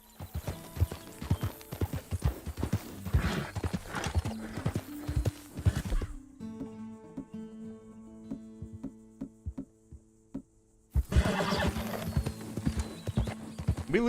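Horse hooves clip-clop in Red Dead Redemption 2, a loud rhythmic string of sharp hoofbeats that breaks off briefly into a quiet stretch of insect-like ambience before the steady trotting resumes, no talking.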